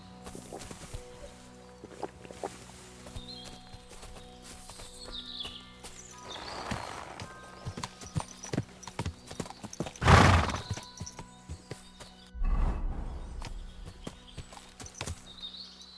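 A black horse in Kingdom Come: Deliverance II, hooves clip-clopping at a slow walk with a loud nearby whinny midway and a second neigh shortly after, over faint background ambience.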